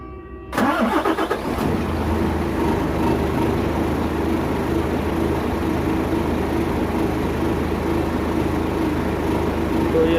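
An Isuzu FVZ280 diesel truck engine with a check-light fault cranks briefly, catches and fires up, then settles into a loud, steady, rumbling idle close by, with no talking over it.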